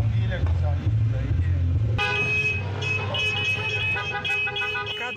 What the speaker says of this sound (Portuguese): Cada buzina é como se fosse um abraço que seu Toninho não pode receber